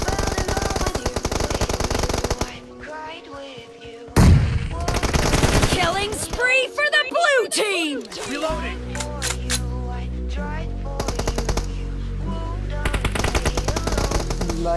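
Bursts of M416 automatic rifle fire in a BGMI match, with rapid loud volleys broken by quieter gaps and game effects, loud and close throughout.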